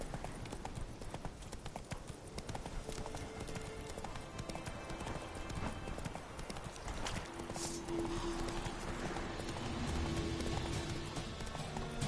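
Roach, the horse in The Witcher 3 video game, gallops with a fast, steady clip-clop of hooves that carries on without a break and sounds close and loud.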